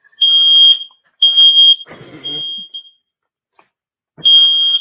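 New fire alarm beeping in a room, loud high-pitched electronic chirps repeating in separate bursts with short gaps, plus a brief rustle in between, no talking.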